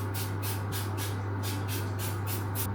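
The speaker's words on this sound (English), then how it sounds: "And a few sprays of frying." Cooking oil spray misted onto salt-and-peppered food before roasting, about seven quick hissing bursts in an irregular rhythm, close and crisp over a low steady hum.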